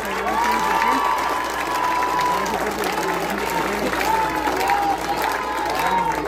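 Crowd at a campaign rally kickoff for Goyo Mendoza at Corral de Piedra claps and cheers loudly, with whistles and shouts rising over sustained applause.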